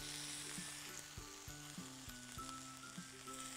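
Steady sizzling and crackling of chicken frying in a hot pan, with a few soft clinks of a utensil against the pan.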